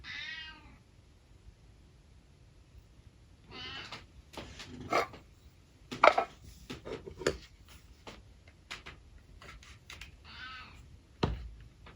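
Sparky the cat meows several times in clear, nearby bursts, some rising and drawn out, spaced between quieter stretches with a few sharp knocks and clicks mixed in.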